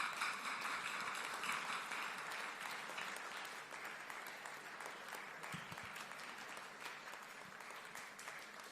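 Audience applause welcoming a speaker at a seminar on neighborhood planning for divided cities, steady dense clapping from a crowd filling the room throughout, holding loud before easing slightly toward the end.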